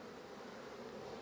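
Honey bees hum in a dense, steady drone over a brood frame during a heavy nectar flow, close and continuous but fairly quiet, with no voices.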